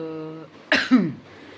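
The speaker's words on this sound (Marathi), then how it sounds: "खोकलाला हसता हसता" A single sharp cough bursts out mid-laugh, loud and close, following a brief stretch of voiced sound and trailing into a short wheezy tail.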